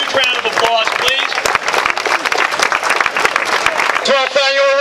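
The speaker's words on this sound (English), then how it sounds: "Give them a huge round of applause, please." Crowd applause at an outdoor trail half marathon event in New Rochelle, a steady dense patter of clapping with cheering voices over it, loud and close, tapering near the end as a voice starts up.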